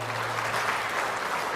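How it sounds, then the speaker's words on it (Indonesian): A short burst of applause from an audience at an Indonesian ministry's national working meeting, steady clapping throughout. "Tepuk tangan juga untuk beliau."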